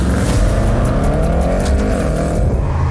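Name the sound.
Audi RS7 car accelerating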